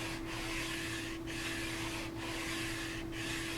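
Sanding the fretboard of a Rickenbacker bass during a refret: steady rhythmic rasping strokes, four even back-and-forth passes over a constant low hum.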